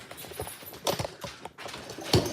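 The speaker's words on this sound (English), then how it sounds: "Did you hear my dogs all coming?" Several dogs run in across a homestead floor, their paws and claws clattering in quick irregular taps and scuffs that swell and fade over a couple of seconds, with no talk.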